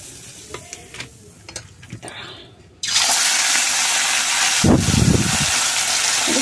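Fish and turmeric dropped into very hot oil: quiet clatter at first, then a sudden loud, steady sizzle and crackle that keeps going, with a brief stirring swell partway through.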